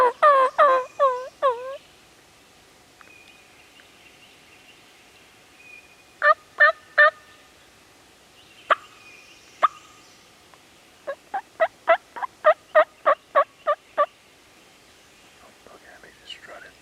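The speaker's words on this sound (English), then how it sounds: "It's a gobbler." A wild turkey gobbler gobbles during a Georgia spring hunt, giving repeated loud, rapid gobbling bursts in several bouts at fairly close range, with quiet whispering between them.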